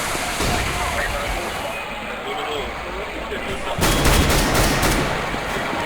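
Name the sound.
auto sniper gunfire in CS:GO video game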